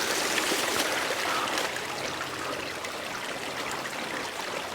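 A small woodland stream flowing steadily in winter before slipping underwater, its broadband rushing and trickling wash holding close and even, easing slightly partway through.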